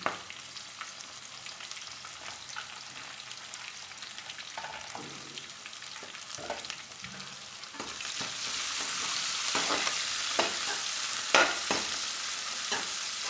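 Steady sizzling of onions frying in a pan, with occasional stirring scrapes; the sizzle grows a little louder and brighter toward the end, no voices.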